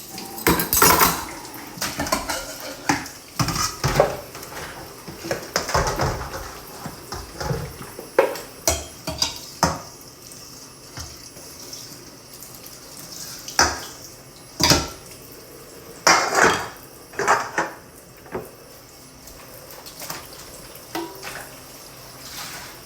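Dishes and cutlery are washed by hand, with irregular clinks, clatters and knocks of plates and utensils over a soft background of running water and splashing.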